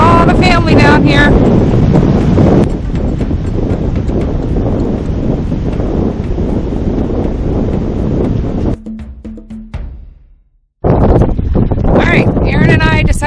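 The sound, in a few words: wind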